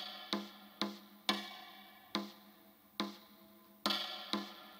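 Bounce Metronome software clicks out an adjusted, uneven beat rhythm, with sharp tick-like hits arriving at irregular intervals, each followed by a short ringing decay, clear and alone with no talking.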